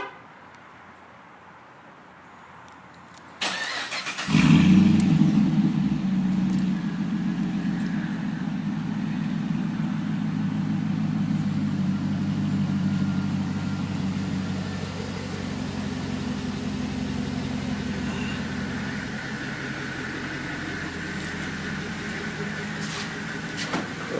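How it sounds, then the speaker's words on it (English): Exhaust note of a 2008 Pontiac G8 GT fitted with a Solo Mach Shorty balanced exhaust, starting up abruptly after a quiet moment, then holding a steady, deep, loud idle rumble close by. "This is a little sound clip of my 2008 Pontiac G8. It's got solo Mark Shorty balance exhaust on it."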